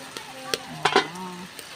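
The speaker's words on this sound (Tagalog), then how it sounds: "at hahaluin natin guys" Chicken adobo sizzles in a pan on a Magic Kalan stove, with a few sharp utensil clicks and scrapes from stirring over a steady, quiet frying hiss during a brief moment.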